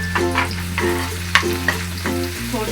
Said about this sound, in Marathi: थोडी तेलामध्ये चांगली परतून घेऊया लसणीचा वास जाईपर्यंत